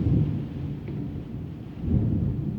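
Low rolling thunder rumbles through a summer thunderstorm in Green Valley, Arizona, a steady deep growl that swells again near the end, with faint rain beneath and no talk.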